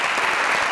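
A live studio audience at a TV show claps in a brief, dense burst of steady applause.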